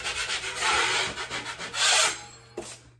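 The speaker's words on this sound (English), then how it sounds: "I'm going to scrape these screws." A flexible drywall knife blade scraping across screw heads on drywall, several short rasping strokes close up, with a brief knock near the end.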